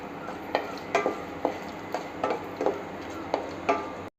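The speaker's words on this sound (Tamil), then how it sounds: "எண்ணெய் காஞ்சதும் பட்டை, கிராம்பு, நட்சத்திர சோம்பு, ஒரு பிரியாணி இலை இதெல்லாம் போட்டு பொரிய விடணும்" Cinnamon, cloves, star anise and a bay leaf frying in hot oil for a soya chunk biryani, a soft steady sizzle punctuated by regular taps of a spoon stirring the pan, close by.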